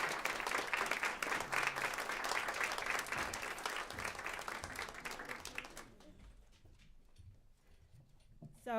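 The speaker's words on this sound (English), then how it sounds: "please give him a round of applause" A live audience greets New York City's mayor at a housing event with warm, full applause that fades out after about six seconds, leaving a few stray claps and quiet room noise.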